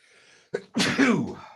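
A sneeze bursts out close to the microphone after a brief inhaled catch, loud and sharp, then trails off with a voiced tail, in a quiet room during a sports talk radio show.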